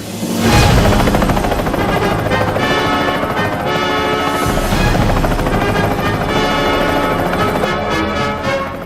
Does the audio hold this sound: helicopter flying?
yes